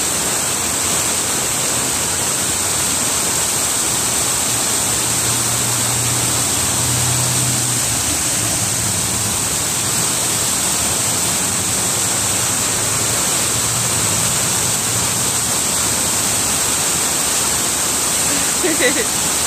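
Steady roar of a waterfall fills the scene throughout, with occasional low splashing as a dog plays in the water; no voices stand out over the constant rush.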